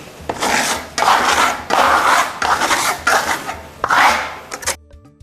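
A trowel skims a coat of concrete plaster across a wall in long strokes. Five or six loud rasping sweeps follow one another with short pauses between them, close by and with no talk.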